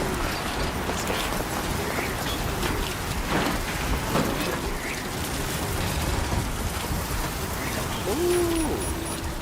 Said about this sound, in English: Talk about a crazy storm.